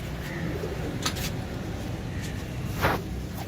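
A perched pigeon gives soft, low cooing calls, a few brief muffled coos over a steady background hiss, with a couple of faint higher chirps from other birds nearby.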